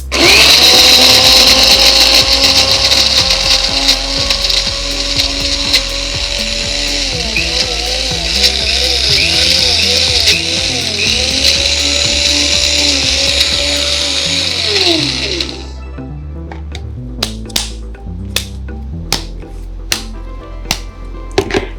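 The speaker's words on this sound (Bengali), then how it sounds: "এবার একটু ব্লেন্ড করে নিতে হবে।" An electric kitchen blender whirs loudly at a steady high pitch while blending ice apple (palm fruit) for about fifteen seconds, then shuts off, leaving a series of sharp knocks and clicks.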